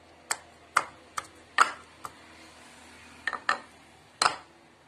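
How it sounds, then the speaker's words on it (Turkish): Garlic cloves pounded in a wooden mortar, a series of sharp, sparse knocks and taps close up, irregularly spaced against quiet background. "Ayıkladığımız sarımsaklarımızı böyle tahta bir havanda eziyoruz"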